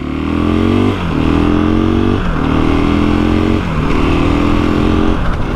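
A 2021 KTM 500 EXC dirt bike engine being broken in revs up repeatedly in three or four loud, rising pulls with short dips between them, close by and with no talk.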